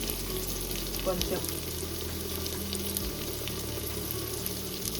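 Masala spices, coriander and cumin powder with turmeric and garam masala, hit a hot frying pan for kushka rice, giving a steady close sizzle with light stirring, while a voice speaks briefly.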